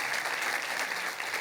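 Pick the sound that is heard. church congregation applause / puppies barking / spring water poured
church congregation applause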